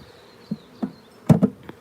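Bees from a newly caught honey bee swarm buzz near a hive, a faint steady hum broken by a few short, louder thumps and bursts of movement close by.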